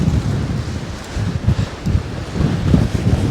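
Strong storm wind buffets a van, loud rumbling gusts battering continuously and surging in uneven waves, with no voices.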